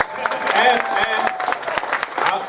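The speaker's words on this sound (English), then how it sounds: "I'm going to ask these two to stand up in front of us so they can get a round of applause." Audience applause and cheering fill a convention Q&A panel as two people stand before the crowd, a steady loud clatter of clapping with voices calling out over it.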